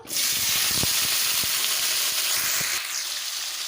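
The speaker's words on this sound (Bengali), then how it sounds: "তেলটা আমার গরম হয়ে গেছে দিয়ে দেব সবজিগুলো" Vegetables drop into hot oil in a kadai for a vegetarian dalia khichdi, setting off a loud, steady sizzle and hiss that runs unbroken and eases slightly near the end.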